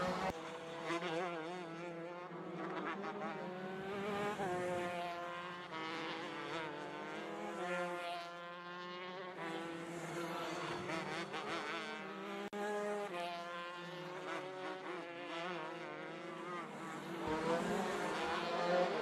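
Four-stroke racing karts lapping at Adams Motorsports Park, several engines whining together in a steady, rising and falling drone as they pass through the circuit, sustained throughout.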